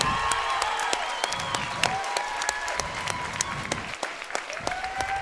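A fight-event crowd applauds military veterans with sustained clapping and some cheering in a large indoor venue, steady and moderately loud, with a few sharp whistles or shouts on top.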